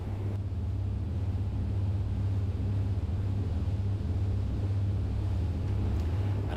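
A Riva 82' Diva motor yacht cruises at almost 20 knots with engines just above 1,800 RPM, giving a steady, close, low droning rumble that holds constant throughout without voices.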